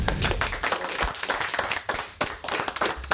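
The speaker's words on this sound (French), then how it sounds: "les applaudissements, ça fait du bien" Applause from a studio audience on a French morning show, dense steady clapping sustained throughout at fairly close range.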